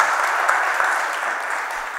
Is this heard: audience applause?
yes